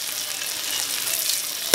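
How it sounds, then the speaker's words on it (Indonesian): Shrimp paste (terasi) fries in hot oil for a Balinese sambal uyah sere tabia, giving a steady, close, dense sizzle that holds evenly throughout, with no voices. "Pertama kita akan goreng dulu terasinya."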